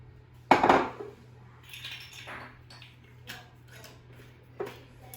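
Casserole pans clank and knock on a home kitchen counter as olive oil is added, one sharp metallic clatter early on followed by softer scattered clinks and taps, close and fairly quiet.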